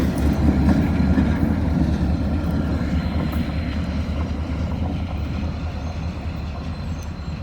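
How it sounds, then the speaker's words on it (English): An old Burlington Northern SD42 diesel locomotive train passes close by, a loud steady rumble of engine and rolling wheels that fades slightly toward the end. "You don't see those locomotives much at all."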